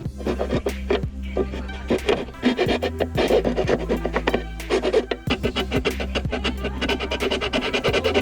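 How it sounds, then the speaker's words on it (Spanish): A metal file rasps against a plastic taillight tab, fitting Beat taillights to a Chevrolet Spark, with quick repeated scraping strokes in an irregular rhythm, close and fairly loud. "Con la lima le vamos a abrir un poquito."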